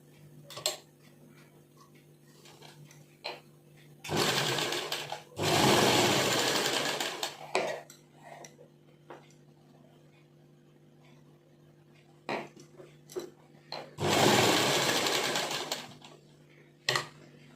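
Domestic sewing machine stitching a pocket onto a salwar, running in two loud sustained bursts of rapid stitching separated by quiet pauses with faint handling clicks.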